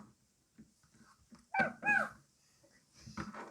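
A dog lets out a few short, high whimpers and a soft growl, faint and close, with quiet gaps between the sounds.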